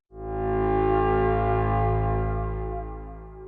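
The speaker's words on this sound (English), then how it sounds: "A single tone meant someone was missing." A single sustained electronic alert tone rings out over a commune's public address system, loud and steady with a buzzy, distorted harmonic edge, holding for about three seconds before tapering slightly.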